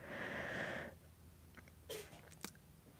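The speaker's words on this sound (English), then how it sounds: "my cat is sneezing" Two or three quick, sharp sneezes from a cat, faint and close, following a brief burst of noise in an otherwise quiet room.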